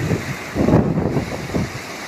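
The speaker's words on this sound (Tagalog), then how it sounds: "Yung alon sa sobrang laki, bumabaluktot." Huge ocean waves surge and crash in rolling bursts, roughly three swells in quick succession, with wind buffeting the microphone.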